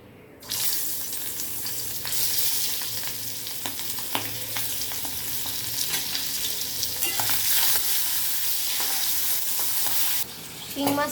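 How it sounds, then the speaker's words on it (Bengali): Singi catfish marinated in salt and turmeric drops into hot oil, bursting into a loud, dense sizzle that starts abruptly, crackles steadily up close for about ten seconds with stirring, then cuts off. "আমার তেল গরম হয়ে গেছে, এবার আমি নুন হলুদ মেখে রাখা শিং মাছটাকে ভেজে নেব।"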